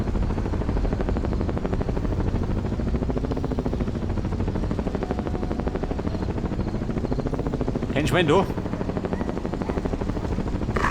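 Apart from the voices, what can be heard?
helicopter in video game Ghost Recon Advanced Warfighter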